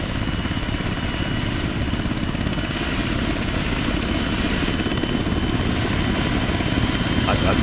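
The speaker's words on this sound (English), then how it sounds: "Don't get hit by the helicopter." Helicopter in the Arma 3 video game, a steady loud rotor drone with engine whine holding constant throughout, with no gaps.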